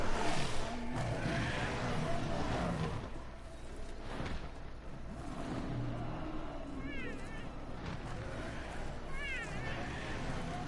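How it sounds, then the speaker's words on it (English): Cat meowing in short repeated calls, rising and falling, mixed into busy game sound and background noise, with voices talking over it. "Stop meowing."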